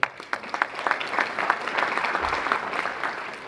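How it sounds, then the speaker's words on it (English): A short burst of applause from a small crowd at a commercial real estate Q&A session, with scattered claps that quickly build into steady clapping before tapering off. "Round of applause."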